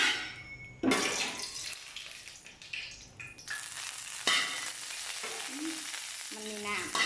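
Vegetables stir-fry in a pan with a close sizzle, interrupted by loud clanks and scrapes of a utensil, a burst of running water, and a few short clattering knocks near the end.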